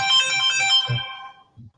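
A mobile phone rings with a bright, repeating electronic melody lasting under two seconds, clear and close, then cuts off.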